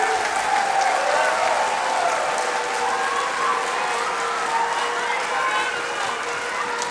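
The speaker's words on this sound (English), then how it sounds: "one more round of applause for your kiddos and Miss Flowers." Audience applause for schoolchildren and their teacher at a community event, a continuous moderate round of clapping with light cheering, steady from start to finish with no talking.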